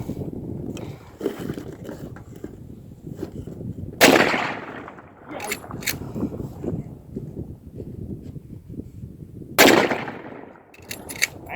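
Two sharp firearm shots fired downrange at an outdoor shooting spot, roughly five seconds apart, each loud and close with a quick decaying tail over low background rustle and wind.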